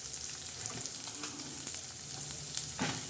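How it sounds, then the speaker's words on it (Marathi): Onion and tomato sautéing in a hot spiced tempering, a steady close sizzle and crackle with occasional stirring scrapes throughout. "आता टमाटे आणि कांदा असा मस्त आता परतवत आहोत."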